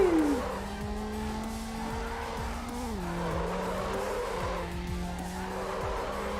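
A rear-wheel drive car drifts in Need For Speed Underground, with a steady engine drone, gear shifts and long tire squeals as it slides, loud and close with no talk.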